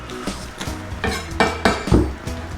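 A sharp knife chops through an onion on a board, giving a series of crisp knocks and clicks at an uneven pace, close up with no talking.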